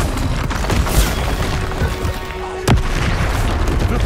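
Confringo fire spell from Hogwarts Legacy bursting with a deep boom, one sharp blast near the middle over a dense, continuous rumble of game effects.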